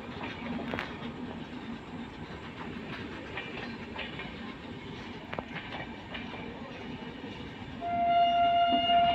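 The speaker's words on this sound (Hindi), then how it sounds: "Bhubaneswar Mumbai Konark express ढांडो railway station से डिपार्चर हो रही है।" The Bhubaneswar–Mumbai Konark Express pulls out of a railway station, running about ninety minutes late. Steady, dense rumble and clatter of passing coaches continues throughout, with a sustained horn-like tone joining near the end.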